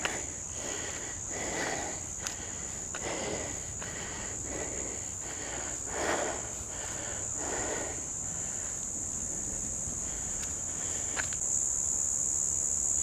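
Cicadas in a tree near Sydney give off a steady, high, continuous buzzing drone that holds for the whole stretch, with faint close breathing and soft movement beneath it.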